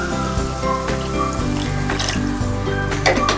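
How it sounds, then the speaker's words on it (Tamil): Water pours steadily into a pot, a continuous splashing gurgle that shifts in pitch as the vessel fills. "அப்புறமா 1 கப் தண்ணி ஊற்றிக்கோங்க."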